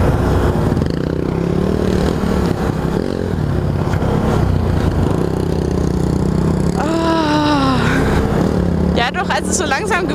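Can-Am Renegade 1000 ATV engine off-road, a loud rough drone with rising revs and a gear-whine sweep near the end, talking and rattling over it.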